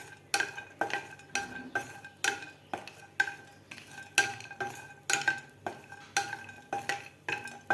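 Grated coconut dry-roasting in a pan is stirred with a spatula, giving a steady series of scraping strokes roughly once a second, close and fairly loud, with no talking.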